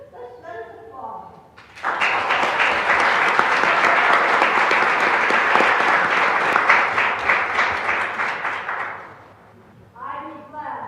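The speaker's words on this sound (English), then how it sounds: "Let us applaud." Audience applause at a 2025 inauguration ceremony, a dense burst of clapping that swells in after a short spoken line, holds steady for about seven seconds, then fades as a voice resumes.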